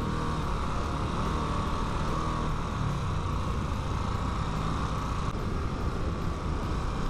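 Harley-Davidson Nightster motorcycle on the road, a steady engine drone mixed with heavy wind rush at riding speed, constant and fairly loud with no talk.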